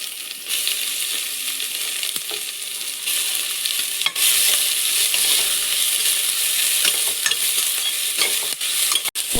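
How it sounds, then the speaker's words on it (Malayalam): Onions stir-frying over a high flame for egg fried rice, a steady loud sizzle with scraping stirs and occasional clinks of a utensil against the pan, continuous with no talk. "ഇനി നമുക്ക് ഉള്ളി ചേർത്ത് കൊടുക്കാം."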